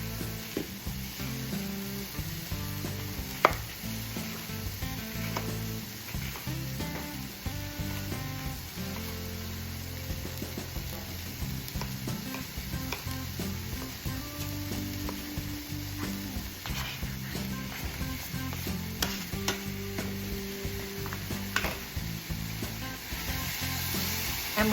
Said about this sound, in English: we're just going to let the flavors start cooking up, and our onions to get translucent